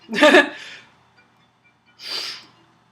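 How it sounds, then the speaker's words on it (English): A person sniffles twice during a livestream, a sharp nasal burst followed after a pause by a second, softer sniff, close to the microphone. "Oh, pardon me, I keep sniffling."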